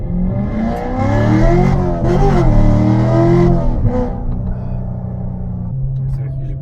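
A Corvette C7 Stingray targa engine revs and rumbles loudly and close while the car corners hard, pitch rising and falling over several seconds before settling into a steadier drone, with people talking over it.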